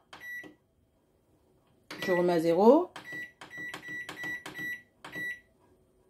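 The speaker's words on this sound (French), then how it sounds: "Je vais mettre dans le micro-ondes à puissance maximale." A microwave oven being set to maximum power for three minutes: a few sharp keypad beeps, then a short stretch of talking, then a run of regular button beeps ending in a longer start tone, all close and clear.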